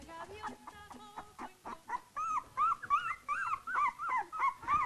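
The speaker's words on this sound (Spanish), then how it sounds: "se escuchan un poquito llorar acá porque quieren obviamente amamantarse los perritos" Newborn dachshund puppies whimper and cry to nurse beside their mother, a close-miked chorus of high, wavering squeals and yips repeating in quick overlapping bursts, growing louder and more insistent toward the end.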